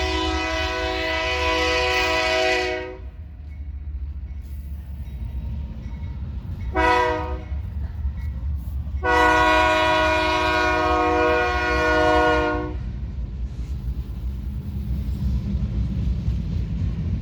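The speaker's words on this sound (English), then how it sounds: "Stupid train. Sorry, it's gonna get really loud here for a second." A loud train horn blares in long blasts, one short and another sustained, over the heavy low rumble of a passing train.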